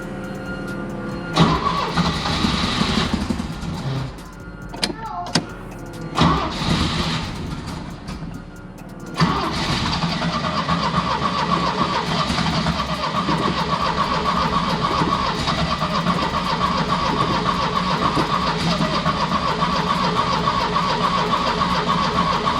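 An abandoned 1975 Chevy Vega Cosworth Twin Cam engine cranks in several uneven bursts after sitting for twenty years, then catches and runs at a steady, loud, close idle.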